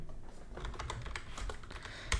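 Typing on a computer keyboard while entering a command in Kali Linux, a quick run of close key clicks with uneven rhythm, ending in a sharper keystroke like a press of Enter.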